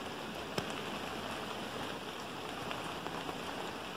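Steady light rain patters on leaves, a soft continuous hiss with occasional sharper drops.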